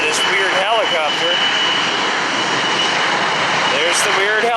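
A jet airliner roars steadily overhead, a broad continuous rush with engine whine, while people talk intermittently beneath it.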